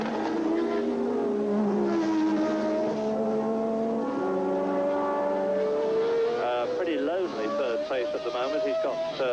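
A Formula 1 race car engine at the Zandvoort circuit during the Dutch Grand Prix, a loud sustained whine that rises and falls through the gears, heard under continuous race commentary.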